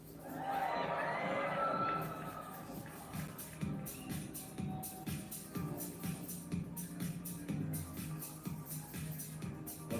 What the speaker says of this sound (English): keep that cheer going